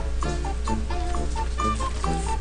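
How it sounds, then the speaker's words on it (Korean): Chickens clucking in the Minecraft video game, a series of short repeated clucks spaced through the clip over steady game background sound, with no talk. "여기 아까 처음에 만났던 닭 같은데?"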